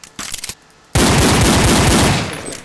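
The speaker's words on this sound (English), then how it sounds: "I want to shoot just a bit faster." Gunfire in a shooter video game: a brief clatter of shots, then a loud sustained burst of rapid automatic fire filling the rest of the moment.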